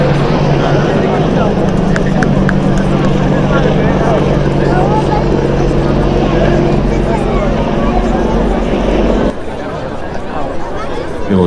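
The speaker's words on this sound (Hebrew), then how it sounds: "מסוק הינשוף." A Yanshuf helicopter flies past at an Israeli Air Force flight academy wings ceremony air show, a loud continuous rotor and engine roar that holds steady before dropping off abruptly near the end.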